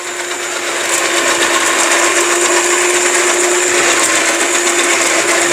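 An Italian-made food processor chops onions with a loud, steady motor whine that ramps up briefly and then holds constant, with no speech over it.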